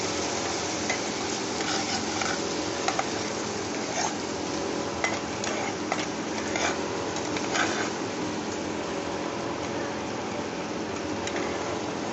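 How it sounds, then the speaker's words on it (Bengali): Ground spices loosened with a little water sauté in a pan for an egg curry, giving a steady, even hiss under repeated scraping strokes of a stirring spoon. "সামান্য জল দিয়ে আমি এখন কষে নেব"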